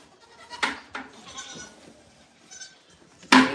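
Goats on a small farm bleat in a few short, sharp calls close by, with a loud final bleat, separated by quiet rustling gaps.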